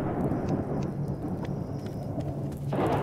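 Video game thunderstorm with steady rain hiss and a low rolling rumble of thunder, loud and continuous throughout, with a swell near the end.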